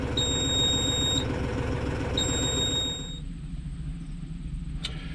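A Mahindra tractor's service alarm beeps in two steady, high electronic tones over the low rumble of the idling engine, then the beeping stops and only the engine drone continues, with a short click near the end.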